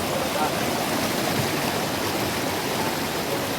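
Steady, loud rush of river water flowing, a dense broadband wash with no breaks, heard close throughout.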